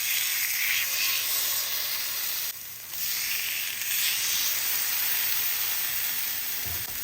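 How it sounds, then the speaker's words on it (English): Salmon sears in clarified butter in a skillet over medium-high heat, giving a steady, bright sizzle and hiss that swells briefly, continuous and close with no talking. "I'm just going to take my salmon and add it to the skillet"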